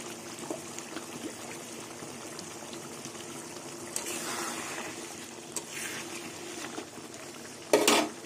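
Raw mustard oil poured into a pan of simmering Bengali small river fish chorchori with poppy seed, mustard and brinjal, a soft steady bubbling and trickle under low background hiss, ending in a brief sharp clatter.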